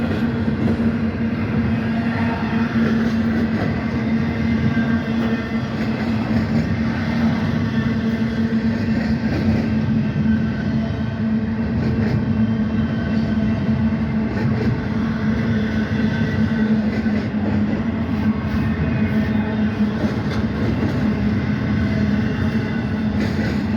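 A CSX freight train rolls steadily through a residential neighborhood, its continuous low rumble and rail noise loud and unbroken for the whole stretch, with no talking.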